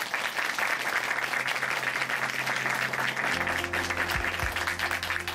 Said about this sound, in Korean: 다시 한번 자매님께 큰 박수 보내드리겠습니다.